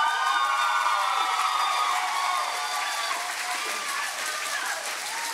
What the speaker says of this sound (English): I think y'all even got Dr. Williams cheering back there.